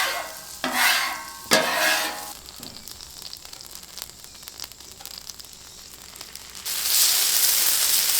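Oil sizzles on a hot Blackstone griddle ready for shrimp, with two sharp bursts of sizzle and scraping at the start, a quieter hiss in the middle, then a louder steady fry at the end.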